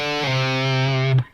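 A distorted electric guitar note is picked, pulled off and slid, a sustained buzzing tone that shifts pitch and cuts off abruptly, close and alone.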